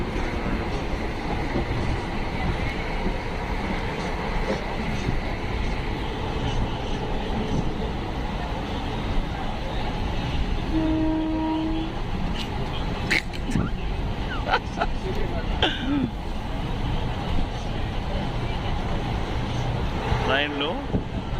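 A crowded passenger train on the Vijayawada route, heard from inside as a continuous loud rumble and rattle of the carriage running steadily on the rails, with a few brief squeaks and knocks and people talking faintly.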